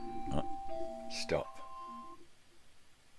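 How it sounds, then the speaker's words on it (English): An alarm chimes in a quiet room, a few bright ringing tones in quick succession, and a person speaks a word over it before it fades. "That was my alarm."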